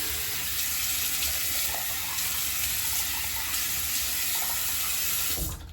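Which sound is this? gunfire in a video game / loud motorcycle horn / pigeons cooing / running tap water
running tap water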